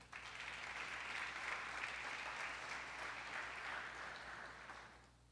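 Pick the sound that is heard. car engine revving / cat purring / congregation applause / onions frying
congregation applause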